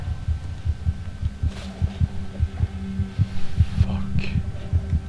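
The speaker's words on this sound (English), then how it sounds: "Oh, now the heartbeat is..." A game heartbeat in the horror title Among The Sleep thumps in a steady, fairly quick rhythm of soft low beats over a faint hum, with brief stray noises and no speech.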